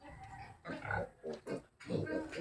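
Native pigs and piglets on a farm grunt and squeal in several close bursts, with short pauses between the calls.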